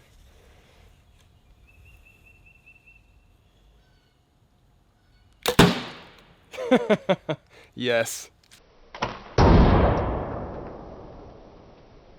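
A compound bow arrow strikes a car door: quiet at first, then a sharp impact crack, a run of rattling metallic clatter and a final loud hit with ringing noise; a brief voice speaks.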